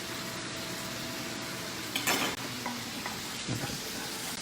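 Chopped garlic hits a hot frying pan for shakshuka, giving a brief burst of sizzling and frying that rises for a moment and then fades back into a steady background hiss.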